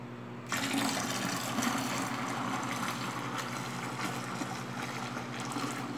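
Water pours steadily into a container with a continuous rushing, splashing hiss that starts abruptly and holds at an even level, as one litre goes in while a cleaner is being mixed.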